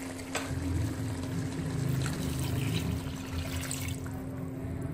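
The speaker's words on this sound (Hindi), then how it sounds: "अब मैं इसके अंदर पानी डालने लगी हूँ" Water poured into a pot of browned chicken nihari in ghee, a steady close pouring and trickling rush that runs for several seconds before easing off near the end.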